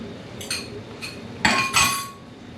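A utensil stirs sauce in a cooking pan, giving a few sharp metallic clinks and scrapes against the pan, close and fairly loud, with the strongest strokes near the end.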